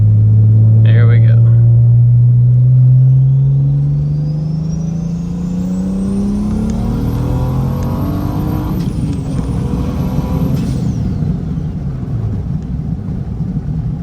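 A big single-turbo BMW 335i with manual gearbox and anti-lag, running 26 psi, pulls hard in third gear: a loud, rising engine drone that climbs steadily, then a roaring turbo rush with a high whistle near the end, heard from inside the car.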